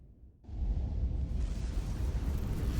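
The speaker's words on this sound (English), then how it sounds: "The storm is getting worse." A storm rages in the game Star Trek: Resurgence, starting abruptly as a loud, low, continuous roar of wind and rumble that holds without pause.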